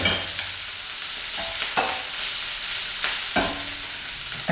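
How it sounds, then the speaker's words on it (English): Pieces of seitan fry in an oiled pan on one side only for homemade döner, hissing in a steady, loud sizzle, with a few soft scrapes as the pieces are stirred and shifted. "we're frying this on one side only"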